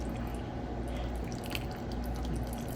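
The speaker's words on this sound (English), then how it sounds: "I'm gonna open the can and drain it." Liquid from an opened can of black beans drains into a kitchen sink as a steady, close wet dribble with soft squishy splatters, heard alone for a few seconds.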